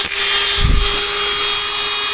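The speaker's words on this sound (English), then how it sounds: "I'm just going to take my dry grinder, because I can't get in there with anything else" A handheld dry grinder cuts through a tube in a cramped spot, giving a loud, close, steady high-pitched whine with a brief deeper grinding burst as the wheel bites.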